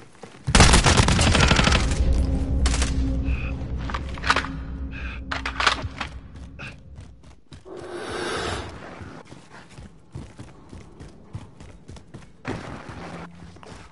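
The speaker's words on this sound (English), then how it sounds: "We're taking fire." Automatic machine gun fire in a video game firefight comes as loud, sharp bursts of rapid shots separated by brief pauses and scattered single thuds, with the heaviest volley at the start.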